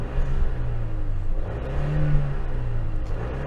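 Mini John Cooper Works hot hatch engine blipped a couple of times, a fairly muted low growl that swells and drops back, heard alone at moderate loudness.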